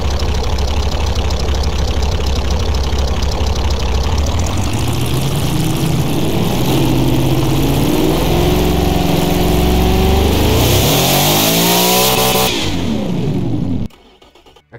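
A very high-horsepower engine built in the Automation and BeamNG games roars loudly at a steady high rev, then sweeps its pitch up and down before cutting off abruptly near the end, with no talk over it.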